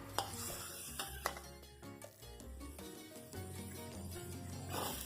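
Pork stir-fried in a pan over medium heat, with a soft steady sizzle under scattered clinks and scrapes of a utensil against the pan, fairly quiet and close.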